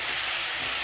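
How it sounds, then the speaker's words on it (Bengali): Onion frying in a pan for a potato dal tadka, heard as a short, steady, even hiss of sizzling oil with no other sounds. "পেঁয়াজটা ভাজা হচ্ছে"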